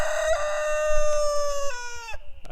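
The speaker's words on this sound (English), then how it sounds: "there is one of our roosters, and there is one of his girlfriends, and they are barred rocks" A Barred Rock rooster crows loud and close in a drawn-out, wavering call that breaks into a lower tail before stopping, with no talk over it.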